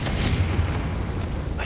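A booming Confringo spell blast in the Hogwarts Legacy video game, a deep rumbling explosion that rolls on loudly for the whole moment, with a brighter burst trailing at the end.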